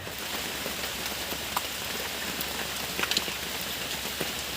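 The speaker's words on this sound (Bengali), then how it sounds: "টকবক করে ফুটছে দেখুন" A pot of masala egg curry boils at a steady, vigorous bubble, a dense crackling patter with occasional louder pops, heard close and alone with no voices.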